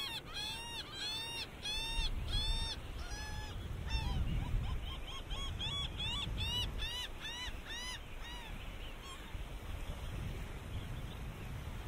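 A flock of seagulls calls repeatedly, overlapping squawks and yelps in a busy rhythmic chorus, fairly near and loud against a soft outdoor background.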